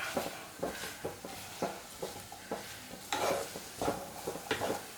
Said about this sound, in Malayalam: കൂർക്ക ചെറുതായിട്ട് നമുക്കൊന്ന് ഉടച്ചു കൊടുക്കാം